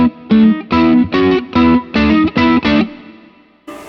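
Electric guitar played through a Fender Bassbreaker 15 amp with the bright switch off: a quick run of about eight strummed, driven chords in a choppy rhythm, loud and close, then a decaying ring.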